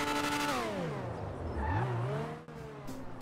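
A race car engine in GTA 5 Online, the F1-style BR8 podium car, revs high, drops sharply, then climbs again with a tire squeal, loud and close, with no voices.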